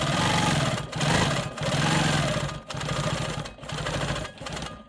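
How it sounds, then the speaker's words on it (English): A sewing machine quilts a star cross block, stitching in the ditch around a light green square: steady mechanical whirring in several bursts of about a second each, separated by brief pauses, close and fairly loud. "I'm going to go ahead and stitch in the ditch around this green square"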